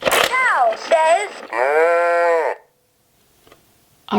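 Electronic moo from a Little People farm See 'n Say toy: a short recorded voice phrase, then one loud, sustained, steady cow moo lasting about a second, followed by near silence.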